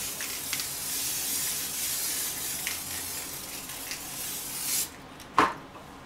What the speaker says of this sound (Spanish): Agregamos el spray.